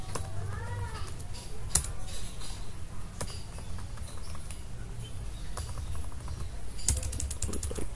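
Typing on a laptop keyboard while entering a network command, a steady patter of light key clicks running throughout with a few sharper taps, against a faint room hum.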